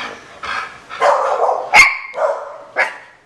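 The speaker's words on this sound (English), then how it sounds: "The dogs are getting riled up." Dogs barking indoors at night, several loud, close barks and yips in an uneven burst, with whining tones between them and no speech.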